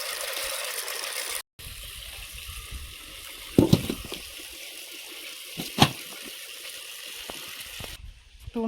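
Turmeric is washed under running water, giving a steady, close stream of tap water. Two louder splashes come midway, and no one speaks.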